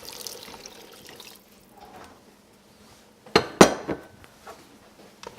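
Water is poured into a pot of shrimp courtbouillon, with a brief splash and clatter of the pot and utensils after a quiet stretch, then a few light clinks.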